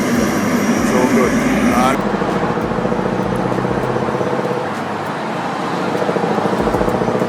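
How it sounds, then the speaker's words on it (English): A Mack Superliner V8 heavy haulage truck engine roars loudly and continuously, dipping slightly midway before swelling again, with a brief different noise at the start. "The engine's roar echoes as the massive vehicle carries heavy cargo"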